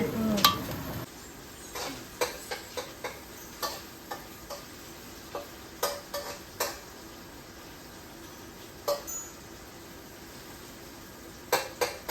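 Chicken biryani masala sautéing in a pan: a low, steady sizzle under a string of sharp spatula taps and scrapes that arrive every second or so, close by.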